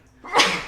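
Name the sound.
sneeze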